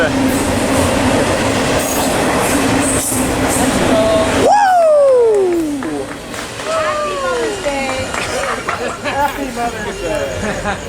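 An eastbound freight train rolls through Fullerton, rumbling loudly with clattering wheels, then high squealing wheel flanges sliding downward as the cars pass; a voice speaks over it.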